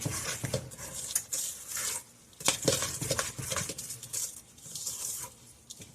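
Oatmeal creme pie mixture is stirred in a bowl, giving irregular close scraping, tapping and squishing sounds in quick bursts, with no talk.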